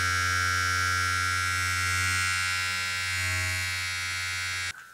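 A Beardo Incredibal electric beard trimmer runs with a steady, loud, close buzz for nearly five seconds, then cuts off abruptly.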